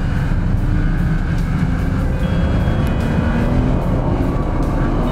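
A Nissan GT-R race car accelerating on the Spa circuit at the Spa Classic, heard from on board as a loud, continuous engine roar that holds steady and close with no pauses.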